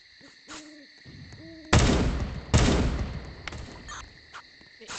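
Two loud, close gunshots from the video game Transfur Infection 2 ring out about a second apart over a tonal game background with hooting sounds.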